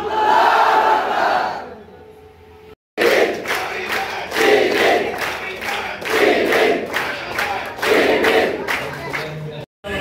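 Crowd at a student rally in Bhola roars back a takbir slogan in loud rhythmic bursts, several waves of massed voices answering a leader's call, close and dense with brief pauses between chants.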